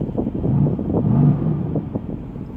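Engine of a Mercedes-AMG GT C heard from inside while driving, a steady low rumble with wind and road noise swelling briefly midway, no talking.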